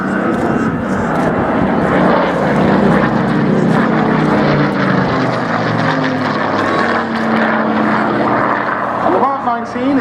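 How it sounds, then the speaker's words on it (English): Hawker Hurricane propeller fighter in Southeast Asia Command markings flying at the Dunsfold Wings and Wheels airshow, a loud, continuous engine drone with public-address commentary and crowd voices underneath. "The Hurricane that you see in front of you is embarked in the colours of the Southeast Asia Command"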